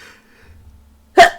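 A single short, sharp sneeze bursts out after a near-silent moment.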